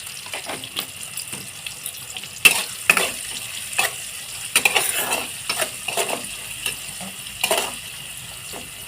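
Ingredients are stir-fried lightly in a pan with salt for chow mein, with a soft sizzle under repeated metal utensil scrapes and clinks of moderate loudness.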